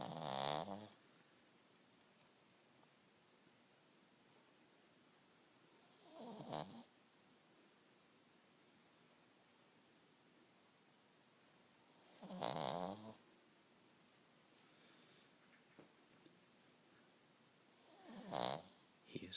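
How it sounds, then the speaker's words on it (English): A sleeping dog snores in slow, regular bursts, four deep rasping breaths spaced about six seconds apart with near-silence between them, close and fairly quiet. "This is Gus, the snoring dog."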